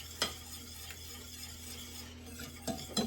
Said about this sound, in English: I'm gonna stir this till completely smooth